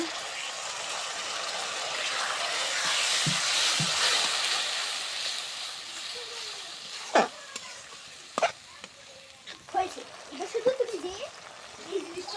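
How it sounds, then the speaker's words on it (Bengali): Spice masala of turmeric, chili powder and salt, with a splash of water, fries in oil for a beef curry. A steady loud sizzle fills the first half, then eases as sharp stirring scrapes and clinks break in near the end. "আমার মশলাটা কষানো হয়ে গেছে, দেখুন তেল ছেড়ে দিছে"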